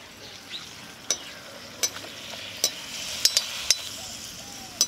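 Semolina and wheat-flour golgappa puris sizzle in hot oil in a steady frying hiss, punctuated by about eight sharp clicks as they are turned, with no talking.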